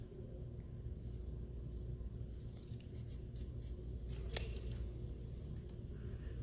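Scissors cutting paper for a planner page, giving a few soft crisp snips and rustles over a low steady hum, with one sharper cut standing out near the end.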